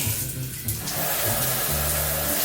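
Hotel shower running, a continuous hiss of spraying water with a low hum underneath, steady and close, no voices.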